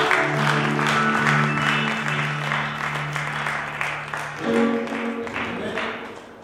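A church congregation at a French-language worship service applauds and acclaims, with steady crowd clapping that swells near the end over sustained organ-like musical tones.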